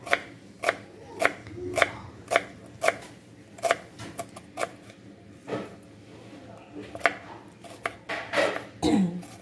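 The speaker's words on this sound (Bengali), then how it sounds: "আমি এখানে পেঁয়াজ ভালো করে ছাড়িয়ে ধুয়ে নিয়েছি, নিয়ে টুকরো করে কেটে নেব পেঁয়াজগুলো।" Knife chopping peeled, washed onions into pieces on a board for palak paneer, roughly a dozen crisp, evenly spaced taps close by, with soft background voice near the end.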